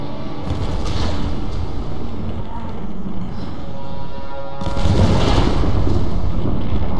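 A loud, rumbling explosion in Tomb Raider swells over continuous noisy action, with a second heavy blast surging near the end.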